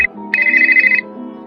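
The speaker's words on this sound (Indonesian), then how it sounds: "saat mendengar ponselnya berdering" A phone ringtone chimes briefly, a bright electronic tone sounding once, close and clear against silence.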